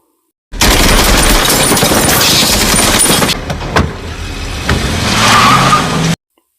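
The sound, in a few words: gunfire at a car in a film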